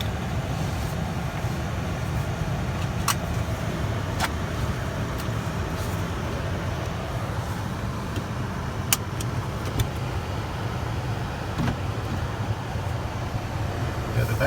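Car driving along a highway, steady broadband road and engine rumble with tire noise throughout, a few faint clicks and knocks from inside the cabin; no talk stands out.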